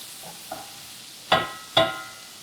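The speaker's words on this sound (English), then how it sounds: "We want to give this a nice little stir" Sizzling pasta is stirred in a pan: two sharp scraping strokes stand out close and loud over a low background sizzle, with fainter taps before them.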